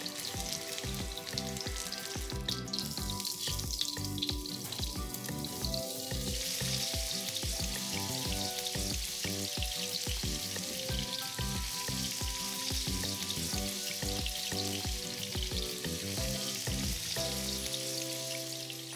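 Onions and potatoes fry in a pan with a loud, continuous sizzle and crackle, with occasional stirring knocks under it throughout.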